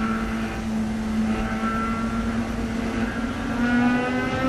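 A field of Mazda Miata race cars accelerates at the green flag start of an E-Production sprint race at Road America. The engines give a layered, droning roar that swells toward the end.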